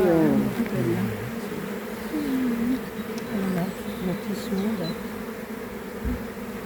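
A dense, steady buzzing of many honeybees close by at a hive in a teaching apiary, with a few higher tones drifting over it; no speech.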